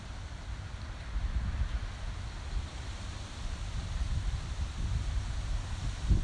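Steady wind buffets the microphone outdoors during a DJI Mavic Pro drone flight on a waypoint mission, a continuous low rumble and hiss that swells slightly toward the end, with no voices.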